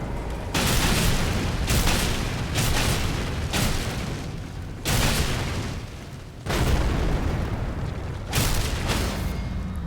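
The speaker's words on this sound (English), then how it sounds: "a massive titan just starts randomly shooting at you." A massive titan opens fire in the video game Elden Ring, producing a relentless run of loud booming blasts and explosions in dense bursts separated by brief lulls, with no talk.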